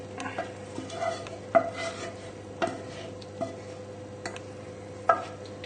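A spoon scrapes and taps against a lasagne dish while white sauce is spread into the corners, giving soft irregular scrapes with a few sharper clinks against a steady low hum.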